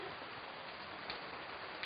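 Rain falling outdoors during a barbecue, a steady dense hiss of drops spattering on surfaces, continuous and even from start to finish with no voices.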